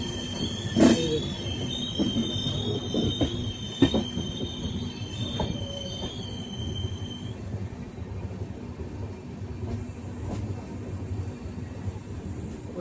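Passenger train running through Kotshila station in Purulia without stopping, with sharp high wheel squeal and steady rumbling rolling noise, a few louder clanks early on, then a continuous fading rumble.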